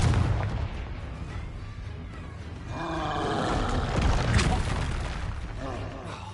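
A Confringo blasting spell from Hogwarts Legacy bursts with a loud rumbling explosion that swells midway and rolls on for several seconds, with game music and effects layered underneath.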